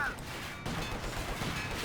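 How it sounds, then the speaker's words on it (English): Stuka dive bomber barrage in the World War II strategy game Company of Heroes 2, a dense rumble of explosions and gunfire throughout, with a brief dip and then renewed impacts; a voice talks faintly underneath. "Stuka going for another barrage"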